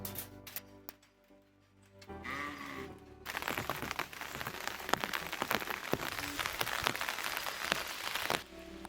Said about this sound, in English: We reach the cave and it's still raining.